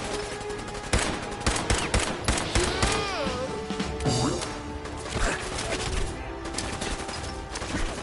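Gunfire and a grenade blast in Fallout 4, heard as a busy run of rapid shots and sharp cracks over a steady layer of game music and ambience, moderately loud.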